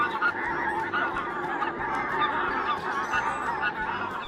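Geese honk repeatedly and loudly, several calls overlapping in a noisy, continuous chorus.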